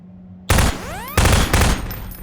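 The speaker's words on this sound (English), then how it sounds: "take out the firearm of your choice and shoot the device" Loud, close bursts of automatic gunfire blast at a target device in Half-Life 2 Episode 2, three heavy volleys in quick succession with a brief whining ricochet ringing after the first.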